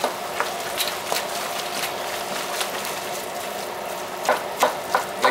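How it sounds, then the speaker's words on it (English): Ingredients for homemade chili browning in a pan, a steady sizzle running underneath with occasional scrapes and stirring clicks, busier toward the end, and no one talking. "Just gonna brown all this stuff up good"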